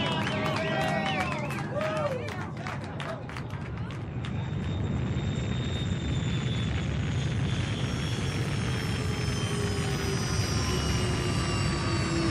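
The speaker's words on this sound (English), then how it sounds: "Those are rocket engines." A spaceship's rocket engines arrive in a dramatized audio story. A loud, broad, continuous roar builds and holds steady for several seconds over a dense rumbling background.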